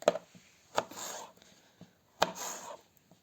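Knife cutting half-hot green and red bell pepper into long thin strips on a board, with a few sharp separate chops spaced irregularly amid soft rubbing, quiet and close.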